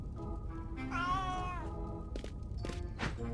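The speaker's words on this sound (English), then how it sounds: "Frederick, look at the cat." A cat in the point-and-click game A Vampyre Story gives one clear, drawn-out meow, close and prominent over a low background hum, followed by a few soft thuds.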